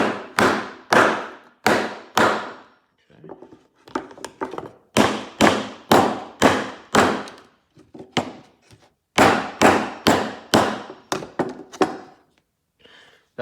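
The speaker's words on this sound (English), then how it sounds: "Got a tiny hammer." Tiny hammer flattening metal parts on a golf cart engine during a rebuild: sharp close metallic taps in quick bursts of three to five strikes, separated by short pauses, with no talk.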